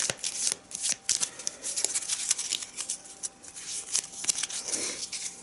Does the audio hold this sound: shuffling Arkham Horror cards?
yes